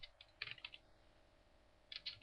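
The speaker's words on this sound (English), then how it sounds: "you'll type in the post over here" Quiet keystrokes on a computer keyboard come in two short bursts of soft clicks separated by a pause.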